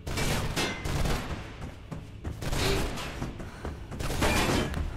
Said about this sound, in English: the assassin starts shooting at you with a handgun instead of the rifle